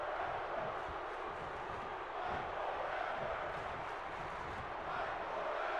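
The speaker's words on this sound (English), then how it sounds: "The crowd are chanting "Fight Forever."" A virtual arena crowd in the wrestling game WWE 2K22 keeps up a steady, fairly faint rhythmic chant. The broad crowd roar holds level throughout without sharp peaks.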